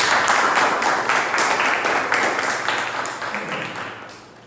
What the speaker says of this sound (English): Can we have a huge applause for that?